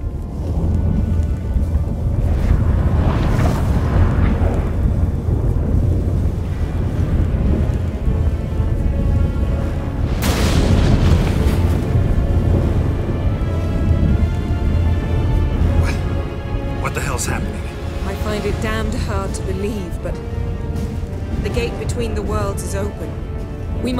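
A storm in Witcher 3 with steady loud rain and a booming thunder crack near the middle, voices speaking over the downpour.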